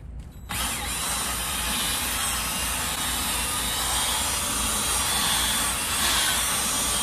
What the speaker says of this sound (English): Let me try hitting it with the vacuum again, see if I can suck this moisture out